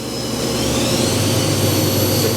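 A 2013 HURCO VM10Ui five-axis CNC machining center with its spindle running up from 1500 toward 4000 RPM, giving a steady, loud, whining mechanical hum with a high-pitched tonal edge. No voices are heard.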